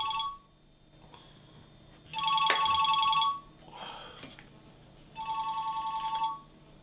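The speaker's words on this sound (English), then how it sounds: "I'm just going to phone Hugh" A telephone ringback tone repeats in short electronic ringing bursts while an outgoing call is placed, with about three rings separated by silent gaps, close and clear with no talking.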